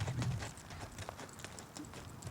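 A horse's hooves clop rhythmically on the ground as it is ridden through a turn-around training exercise, soft and moderately close, with a brief low sound at the start and no talk.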